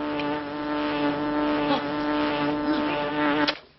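A wasp buzzes aggressively around a face in a TV film, a steady, close, droning whine that swells and shifts in pitch for several seconds before cutting off abruptly.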